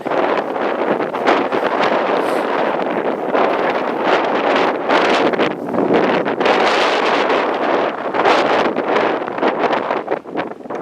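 Gusty wind buffets the microphone outdoors during a chilly March walk around a homestead garden, a loud, continuous rushing roar with rustling and pulsing surges throughout.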